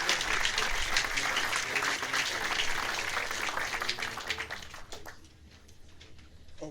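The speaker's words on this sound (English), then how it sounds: "So a round of applause for them as well." An outdoor audience at a memorial dedication ceremony claps for about five seconds, a moderately loud crowd applause that fades to scattered claps and quiet.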